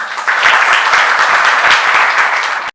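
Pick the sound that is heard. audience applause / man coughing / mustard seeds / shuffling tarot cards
audience applause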